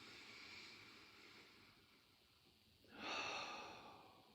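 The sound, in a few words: slow full breath cycle during meditation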